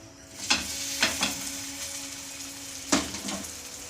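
A layered breakfast fries in a pan under a low, steady sizzle, broken by several sharp scraping strokes of a spatula against the pan, close by.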